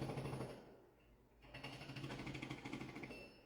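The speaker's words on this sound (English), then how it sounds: "The drilling again." A drill whirs in the background with a steady pulsing buzz, broken by a short pause partway through, faint and distant.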